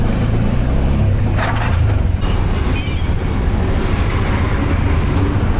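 Busy road traffic in Chennai makes a loud, continuous roar of engines and tyres close by, with a bus or truck passing and a brief hiss of air brakes midway.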